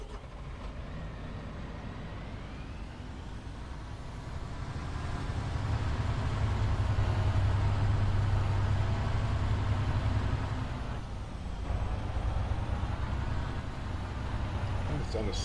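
Tractor engine in Farming Simulator 25 during a barley harvest, a steady low drone that swells louder midway and then eases back, with talk likely mixed in.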